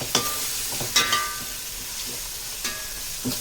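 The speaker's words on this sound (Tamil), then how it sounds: "வெங்காயம் நல்லா வதங்கிடுச்சு" Onions sautéing in a pan for mutton biryani, a soft steady sizzle broken by a few sharp scrapes and clinks of a spoon stirring against the metal, close and fairly quiet.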